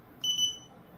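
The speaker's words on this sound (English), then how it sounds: "then test the buzzer" An electronic buzzer sounds once during a circuit test on a small hobby electronics board, giving a single short, bright, steady tone of about a third of a second, fairly close and clear above a quiet background hiss.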